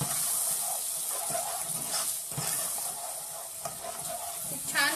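Onion-coconut paste stirred into a frying pan, a close sizzle broken by repeated scraping strokes of a spoon and a brief rattle at the end, no speech.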